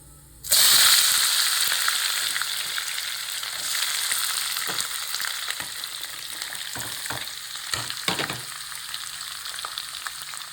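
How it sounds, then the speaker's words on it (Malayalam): Chopped onion, green chilli and bitter gourd sauté in hot oil in a pan, a loud steady sizzle starting abruptly and continuing throughout, with occasional scraping stirs and crackles; no talking. "ഇതിലേക്ക് നമുക്ക് നമ്മൾ അരിഞ്ഞു വെച്ചേക്കുന്ന ഉള്ളിയും പച്ചമുളകും പാവയ്ക്കയും കൂടി ഇട്ട് വഴറ്റി കൊടുക്കാം"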